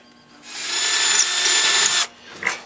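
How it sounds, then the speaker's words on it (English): A power drill bores a hole straight through the center of a wooden piece for a medieval banner holder, one steady high whine lasting about a second and a half, close and loud, then a short burst as the bit winds down. "going to drill a hole as much as I can straight through the center right here."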